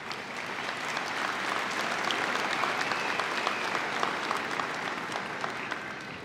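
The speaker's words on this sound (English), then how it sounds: "give them a round of applause if they're here" A commencement audience applauds warmly with steady, dense clapping and a few sharper individual claps, sustained at a moderate distance throughout.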